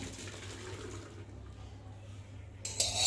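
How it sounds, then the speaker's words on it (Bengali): Boiled pasta water draining through a perforated colander in a home kitchen, a steady low splashing wash running throughout, growing louder and brighter near the end as the pour intensifies. "তো দেখতে পাচ্ছ ফুটো ফুটো একটা ঝরার মধ্যে জল ঝরাতে দিলাম।"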